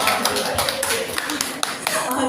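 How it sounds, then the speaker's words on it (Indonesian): An audience at a workshop opening claps a rhythmic patterned triangle clap, a sequence of sharp, fairly loud claps in a steady beat, with some voices mixed in. "Kita kasih tepuk segitiga buat Pak Sultan."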